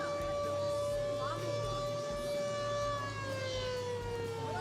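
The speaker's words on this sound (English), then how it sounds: "Someone's got the siren, the air horn." A siren sound effect wails over a baseball game, a steady rising-and-falling tone sustained throughout, moderately distant beneath crowd and field ambience.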